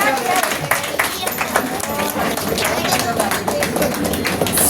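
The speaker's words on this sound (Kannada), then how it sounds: "ಜೋರಾಗಿ ಚಪ್ಪಾಳೆ ನಮ್ಮ ಜೇನುಗೂಡಿಗೆ" Loud, dense clapping from an audience at a women's association anniversary celebration, steady and sustained throughout with talk mixed underneath.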